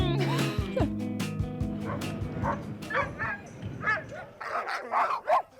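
Huskies in snowy Longyearbyen bark and yip in quick bursts, then whimper and whine, several dogs close by and fairly loud.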